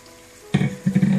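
Water boiling in a cooking pot while making saffron biryani, heard as short, close bubbling bursts after a quiet start.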